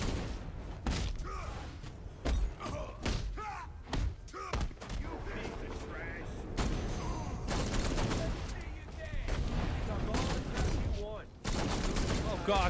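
Enemy gunfire in Batman Arkham Knight's Red Hood content: rapid bursts of shots and heavy thuds crowd together in a dense, loud, continuous fight, with talk and shouting mixed in.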